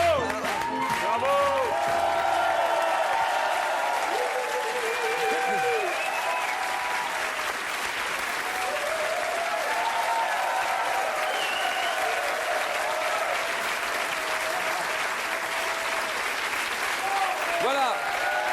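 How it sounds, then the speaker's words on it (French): TV studio audience on a French variety show applauding the musical guests, with sustained loud clapping and occasional cheers and whoops while a host talks over it. "on les applaudit bien fort et on va aussi, évidemment, raccompagner le panda"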